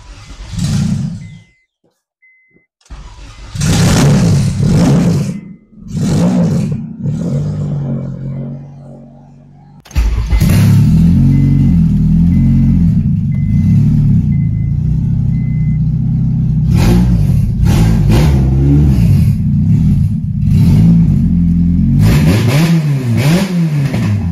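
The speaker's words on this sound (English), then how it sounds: "Now this will be its first start. I have not tried starting it with K-Pro, so here we go." A K-swapped Honda EM2 engine run on K-Pro cranks, sputters and fires for its first start, then settles into a loud, steady idle punctuated by several sharp revs, heard up close.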